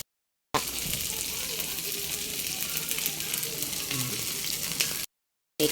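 Fried rice crackles and hisses in a hot pan in a steady, close sizzle with faint stirring, set between short silent gaps at the start and end.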